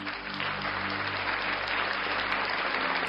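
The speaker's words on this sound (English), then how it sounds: "Why don't I clap for myself?" Steady clapping from a group fills the whole stretch at an even level, with a low constant hum running underneath and no voices over it.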